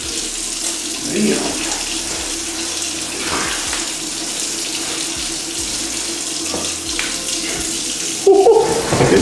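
A bathroom tap gushes unexpectedly hard, spraying water against the sink and splashing around in a continuous loud hiss, with a person's brief exclamation over it.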